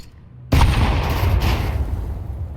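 A grenade explosion in Counter-Strike 2 erupts suddenly after a near-silent lead-in, a single loud boom followed by a long rumbling, crackling decay.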